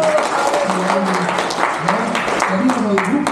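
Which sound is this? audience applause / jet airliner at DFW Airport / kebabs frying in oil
audience applause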